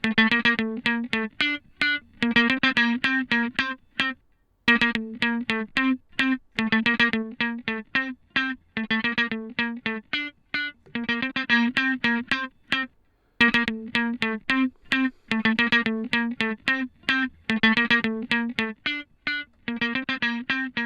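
Electric guitar processed through an 1176-style compressor plugin, playing a tight, choppy funk rhythm of short bright strummed chords with brief pauses, clean and upfront with no voices.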